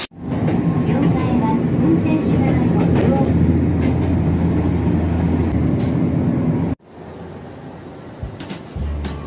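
Steady, loud rumble of an Osaka train in the Nishinari area, heading for Shin-Imamiya, heard from close by with rattling running noise; it cuts out briefly, then resumes more quietly with a few clicks.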